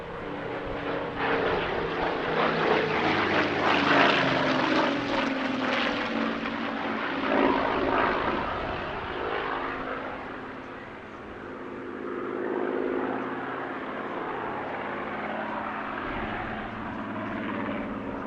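Propeller aircraft of the Battle of Britain Memorial Flight flying a display at the Midlands Air Festival airshow, a loud, continuous engine drone that swells and fades as the planes pass, heard alone.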